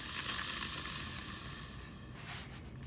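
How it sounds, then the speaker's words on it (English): A steam iron hisses steadily while pressing cork fabric on a pressing mat for an in-the-hoop envelope bag, a close, continuous spray that softens slightly toward the end. "I'm gonna give it a good steam."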